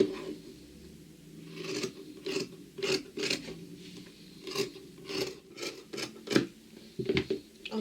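Scissors snip and rasp through fabric while a facing piece for a skirt front is cut out, a string of close, irregular crisp cuts over a quiet room.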